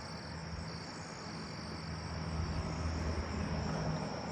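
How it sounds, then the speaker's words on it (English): Southern ground crickets chirp outdoors at night in windy conditions, a faint high continuous trill over a soft wash of wind noise. "Southern ground cricket."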